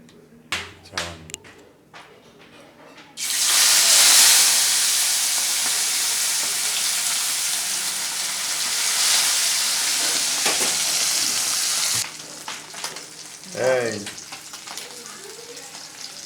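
Bata fish hitting hot oil in a pan bursts into a loud, steady sizzle lasting about nine seconds, with quiet clatter before it and a voice afterwards.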